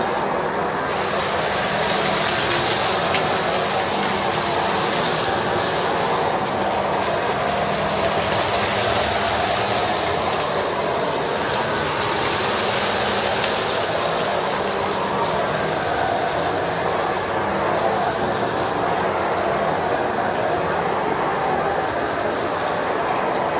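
A Bissell Pet Hair Eraser Dual Brush vacuum cleaner runs steadily, a constant loud motor roar with a rolling brush rumble and no pauses.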